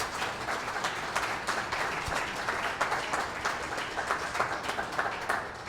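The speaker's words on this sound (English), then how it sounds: "I want you to applaud these people" An audience at a backyard concert in Hawaii claps steadily, a dense, sustained round of applause that stays even from start to finish.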